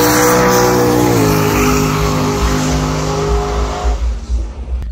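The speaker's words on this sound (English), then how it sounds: "So we are now spending our anniversary together watching drag racing." Drag racing cars roaring down a drag strip at night, a loud sustained engine howl that shifts pitch once, then fades as the cars pull away into the distance.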